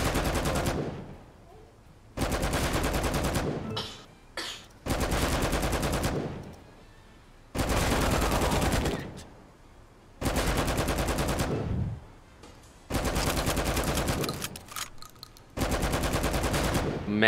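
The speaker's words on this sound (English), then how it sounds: "Man, this is suppressing fire" Bursts of suppressing gunfire in the gangster strategy game Empire of Sin: loud, sustained volleys of automatic fire, each lasting about a second or two, repeating at a steady rhythm with brief quieter gaps between them.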